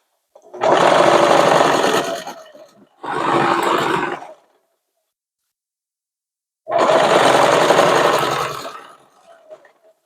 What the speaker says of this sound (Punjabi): ਹੁਣ ਆਪਾਂ ਇਹਦੀ ਡਬਲ ਸਟਿਚ ਕਰ ਦਈਏ